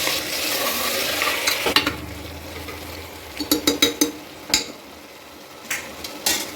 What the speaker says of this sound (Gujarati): સારી રીતે મિક્સ કરી લઈશું।